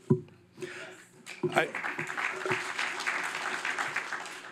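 A crowd applauding steadily at a State of the County address, a dense patter of clapping that builds after a few sharp claps and carries on, with some voices mixed in.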